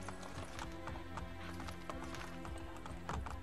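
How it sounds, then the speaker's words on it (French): A summoned horse gallops in Assassin's Creed Brotherhood, set in Rome: steady, close, rapid clip-clop hoofbeats run throughout, with a faint whinny and no talk. "On va appeler mon cheval"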